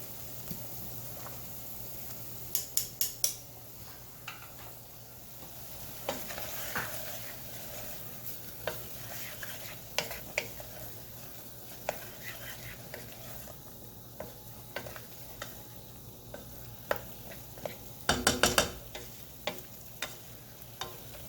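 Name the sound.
stirring noodles in a pot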